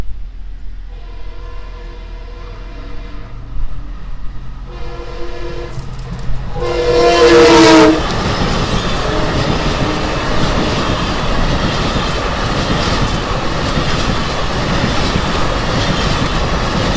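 An LIRR M3 electric commuter train arrives at Pond Road station, sounding repeated loud multi-tone horn blasts before its roar and clattering wheels fill the air as it passes close by.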